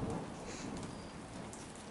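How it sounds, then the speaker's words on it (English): Steady rain patters on surfaces throughout a fierce thunderstorm, with a low rumble of distant thunder underneath and no voices. "Here comes the thunderclap."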